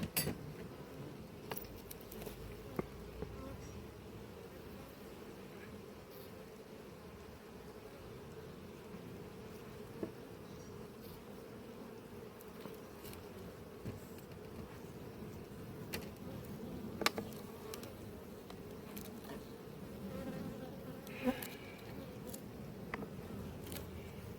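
Honey bees at an apiary hive give off a soft, continuous droning hum, faint and even, broken by occasional light taps and clinks of equipment.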